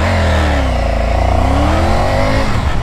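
A Triumph Tiger 850 Sport motorcycle with an 888 cc engine runs loud and close, its throaty drone rising and falling in pitch as the throttle is worked during a ride.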